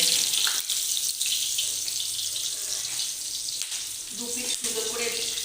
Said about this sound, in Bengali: 2 পিস সুন্দর করে মাছটাকে ভেজে নিয়েছি